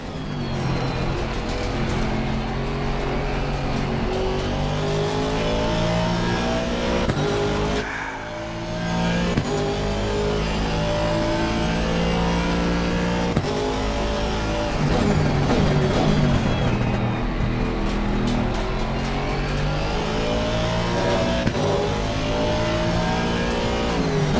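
Racing engine from Assetto Corsa Competizione howling continuously at close range, revs climbing and dropping through gear changes, with a brief lift around the middle and tyres squealing in places.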